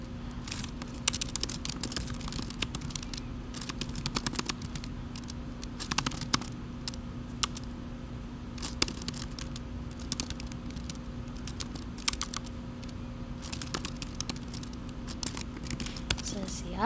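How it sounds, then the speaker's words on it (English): Scattered clicking keystrokes on a computer keyboard, irregular and light, over a steady low hum, with occasional quicker bursts of typing. "So let's start typing."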